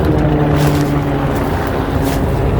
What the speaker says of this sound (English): Sorry for the loud helicopter.